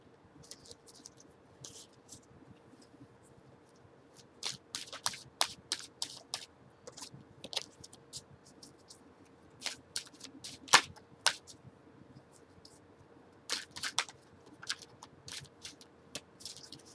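Oracle cards being shuffled by hand, a series of soft papery riffles and flicks in irregular bursts, close and fairly quiet against a faint room hiss, no talking.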